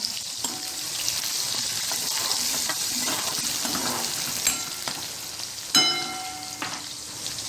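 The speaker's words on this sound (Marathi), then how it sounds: "आपण मिरच्या टाकायच्या बारीक कापलेल्या व्यवस्थित थोडं हलवून घ्यायच्या" Finely chopped green chillies sizzle in hot oil in a pan, with scraping stirs and a few sharp clinks of the spoon against the pan over the steady frying hiss, no speech.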